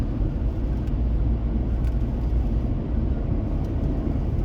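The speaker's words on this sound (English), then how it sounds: "And I'm in the car, it's raining." Steady low rumble from inside a car driving through rain, a dense continuous broadband hiss and road roar at even loudness throughout, with no voices.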